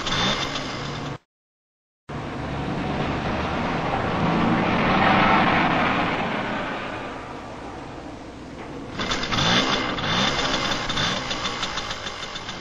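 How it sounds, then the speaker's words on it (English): Mopeds from the late 1970s, ridden by novice drivers, are started and shut down several times, giving a buzzing engine drone that rises and fades, drops out briefly near the start, then returns with a rougher sputter. "the other 2 novice moped drivers start and shut down the motor a few times."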